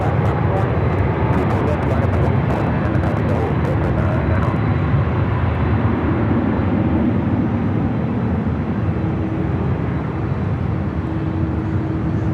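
A Delta Boeing 767-300ER at Los Angeles airport roars as a steady, loud jet engine rumble that fills the whole stretch, with people talking over it.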